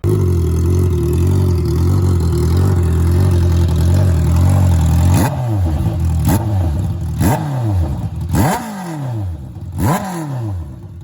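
An inline four-cylinder engine runs with a steady, full, even-firing drone, then revs up and down in several sharp, repeated blips toward the end, loud and close with no voices.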